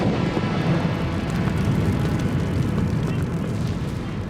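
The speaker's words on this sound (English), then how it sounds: "The plane is bounced and shaken by the frozen snowdrifts." A heavy B-29 bomber jolts across frozen snowdrifts, producing a loud, continuous low rumble with rough buffeting and shaking throughout.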